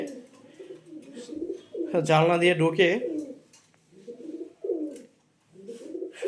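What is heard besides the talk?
pigeons cooing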